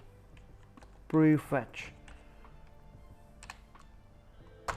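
A short run of quick keystrokes on a computer keyboard, close and crisp, as a word is typed into a Windows 10 Run box, with a few scattered clicks afterward and a brief spoken word over the typing.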